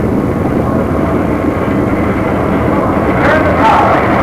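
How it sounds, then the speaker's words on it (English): Apollo 7 rocket liftoff, a loud, steady broadband roar that fills the whole clip with a heavy low rumble, slightly rising toward the end, under faint radio-like voices. "Apollo 7 left the pad in a perfect launch."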